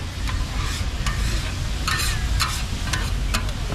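Marinated pork with butter is stir-fried in a pan, a loud dense sizzle running throughout with repeated quick scrapes and clinks of the spatula against the metal at an irregular rhythm.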